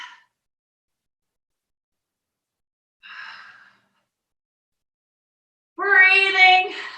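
A person breathes heavily during a no-equipment bodyweight circuit workout: a short exhale, another brief breath a few seconds later, then a longer, voiced, gasping sigh near the mic.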